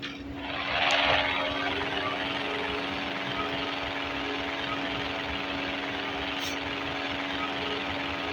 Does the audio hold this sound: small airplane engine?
yes